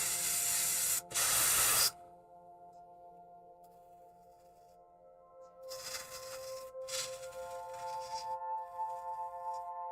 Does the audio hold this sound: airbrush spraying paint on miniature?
yes